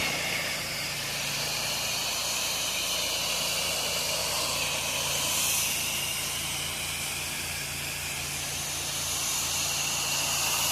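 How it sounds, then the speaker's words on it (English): A pressure washer rinsing brick gives a steady, even hiss of spraying water with a low motor hum beneath it, continuous and close, with no talking. "I'll use it to rinse off my SH off of this beautiful brick."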